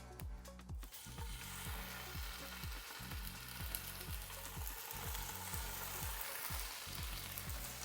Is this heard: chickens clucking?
no